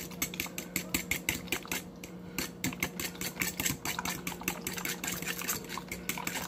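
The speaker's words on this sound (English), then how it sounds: "So we're gonna take a fork. We're gonna mix this shit in together." A fork clinks and scrapes against a bowl while breading ingredients are mixed for breaded chicken, giving a quick, steady rhythm of light metallic taps, close and fairly soft, with a faint hum underneath.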